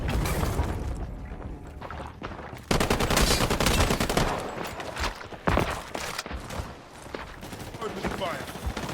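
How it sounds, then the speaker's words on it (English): Dense, loud gunfire and explosions fill a HighGuard video game match, with rapid automatic bursts and heavy booms overlapping almost continuously, and voices talking underneath. "Opening fire."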